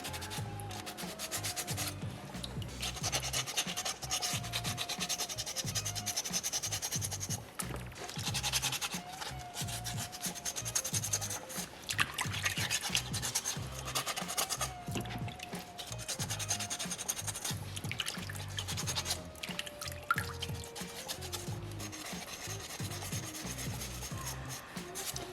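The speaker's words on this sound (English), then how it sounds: "Definitely use this sandpaper to its maximum potential today." Sandpaper scrubbing a small soapstone polar bear carving, steady close rubbing strokes repeating throughout with a dense gritty texture and no voices.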